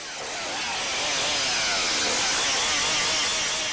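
A repaired engine chainsaw runs close and loud in Tanzania, a steady buzzing roar that swells slightly and holds without a break.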